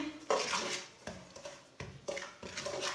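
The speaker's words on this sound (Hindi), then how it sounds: "हल्की आंच पे इसे भूने। सूजी को 2 मिनट तक भून लिया मैंने।" Semolina dry-roasts over low heat while a spoon stirs it in a pan, giving quiet, evenly spaced scraping and light knocking strokes roughly once a second, close by, with no talking.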